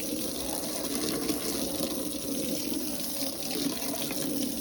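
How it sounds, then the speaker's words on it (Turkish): Water runs steadily from an open garden tap during interior car cleaning of a Passat, a continuous hissing gush close by with no talk. "şu an musluk açık. Şöyle elimle içeriden ittirdiğim zaman su geliyor."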